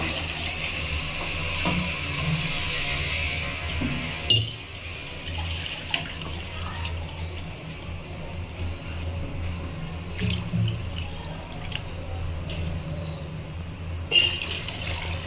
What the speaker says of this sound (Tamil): இதே அளவு 2 மடங்கு தண்ணி வைக்கிறேங்க